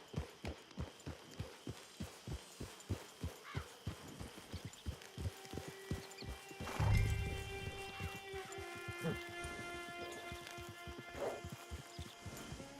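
Horse hooves clip-clop in a steady rhythmic gallop in Red Dead Redemption 2, then slow as game music swells with tonal chords over the last half.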